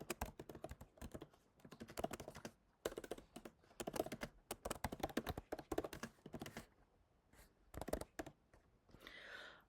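Rapid, uneven clatter of typing on a computer keyboard, close and fairly quiet, coming in bursts with short pauses between them and no talking.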